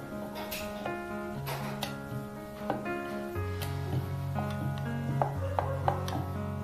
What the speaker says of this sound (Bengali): সামান্য একটু তেল দিয়ে বেলন দিয়ে এইভাবে লুচিটা বেলে নেব